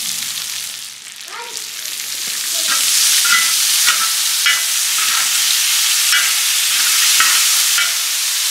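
Pasta with chicken fries loudly on a plow disc, a steady bright sizzle swelling after a few seconds, with scraping stirs breaking through now and then.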